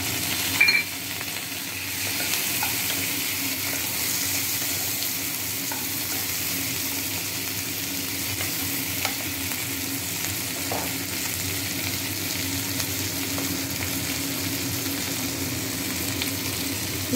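Chopped tomato frying in oil with garlic for a broccoli and potato curry, a continuous even sizzle throughout with a sharp clatter as the pieces drop in at the start and faint stirring scrapes later, no voices.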